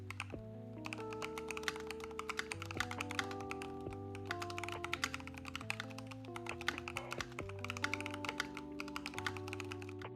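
Rapid, continuous mechanical keyboard typing with crisp clicky keystrokes at an uneven rhythm, close up, over faint background music.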